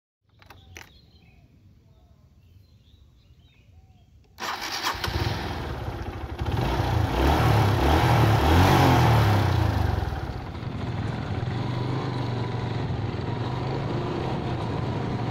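A Honda CS1 motorcycle is started after a few faint clicks and then revs and rides off, its engine note climbing loud and steady before settling into a sustained run, with no talking over it.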